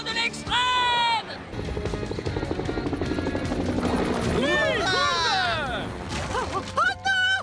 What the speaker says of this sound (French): Prochain arrêt, le super hélicoptère!